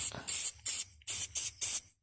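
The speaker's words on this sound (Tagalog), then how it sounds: "Spray natin ng WD-40 para madali siya makuha." Sharp bursts of WD-40 aerosol sprayed close up onto a broken exhaust part of a Raider 150 motorcycle. There are six quick hissing squirts in a fairly even rhythm with short gaps between them.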